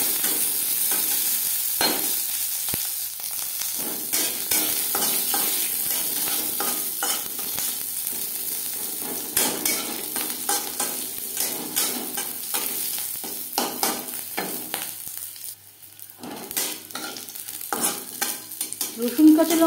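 Garlic cloves and green chillies fry in a pan with whole cumin and dried chilli, a continuous crackling sizzle broken by repeated spatula scrapes and stirring clatter, with no talking.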